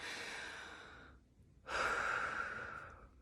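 Deep, slow breathing up close: a long drawn breath, a short pause, then a louder, fuller breath, with no talking.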